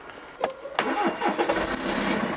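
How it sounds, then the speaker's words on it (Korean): A BMW G30 520d diesel that has sat unable to start for four months is cranked on its starter motor, giving a couple of sharp clicks and then a loud churning crank close by, with no voices. "배터리가 좀 충전이 되고 엔진을 한번 돌려봐야겠어."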